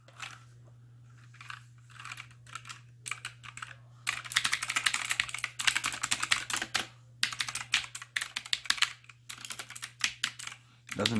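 Quick bursts of close, crisp key clicks typed on an AUKEY 104-key RGB backlit gaming keyboard, sparse at first then dense and continuous, with short gaps and a constant low hum beneath.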